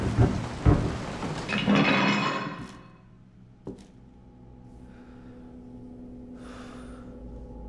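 Thunder and rain in the horror game Resident Evil 7: a loud rolling rumble of thunder for the first few seconds with a sharp crack near the end, then steady soft rain continuing alone.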